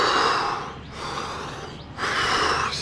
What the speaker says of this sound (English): I'm breathing quite deeply now.